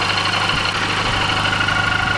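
A Mini Cooper R53 engine idles steadily and loudly up close, with a thin whine from a worn idler pulley riding over the even mechanical drone.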